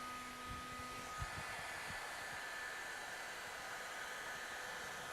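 Heat gun warming vinyl wrap film to work it into a recess: a steady, even airflow hiss with a faint motor whine, running continuously at moderate level with a few small handling knocks near the start.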